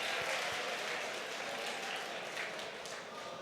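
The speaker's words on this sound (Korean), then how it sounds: "우리 박수 한번 칩시다." An audience at a high school seniors' religious retreat claps together in a steady, faint wash of applause that holds for a few seconds without voices.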